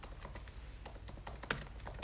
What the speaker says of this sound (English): Excuse the typing sound that you're about to hear